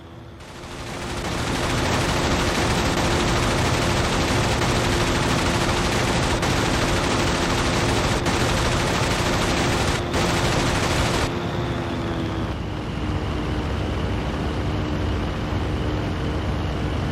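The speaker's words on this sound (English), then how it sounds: "First Lieutenant Joe Curtis fired at another FW, damaging it." Aircraft machine gun fire from a WWII fighter engagement against German FW fighters, a loud, continuous roar of rapid fire with engine drone running the full length, shifting in tone partway through.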